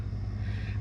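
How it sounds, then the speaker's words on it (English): A noisy pickup truck rumbles past on a rural road, a steady low engine drone heard from a distance and fairly faint, with no voices. "Kids these days, they drive such noisy vehicles, noisy pickup trucks."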